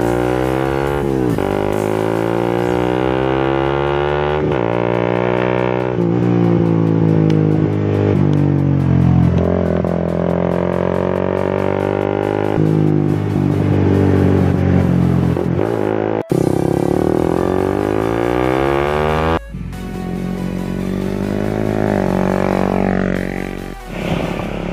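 A Suzuki GSX-R150 fitted with a Sharp Cobra racing exhaust is ridden and repeatedly revved, its deep engine note rising and falling through gear changes, loud and close for the whole stretch.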